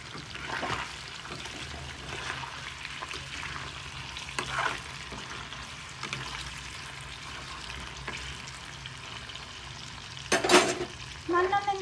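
Mango chicken pickle fries in a pan with a soft, steady sizzle and occasional stirring scrapes, ending in a brief louder clatter near the close; no talk is heard.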